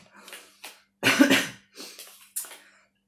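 A nearby person coughs several times in a short irregular series, one harsh loud cough in the middle flanked by smaller ones.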